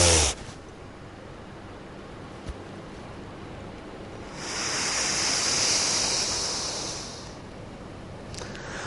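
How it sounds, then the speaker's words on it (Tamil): In a yoga breathing exercise, air is drawn in and let out through both nostrils, heard as a long, soft, airy rushing that swells and fades over a steady background hiss. "அப்ப காத்து ரெண்டு மூக்குலையும் இழுத்து அதே போல விடுங்க"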